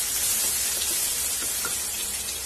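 Chopped onion dropped into hot oil already holding fried cashews, giving an even, close crackling sizzle with dense hiss for a couple of seconds.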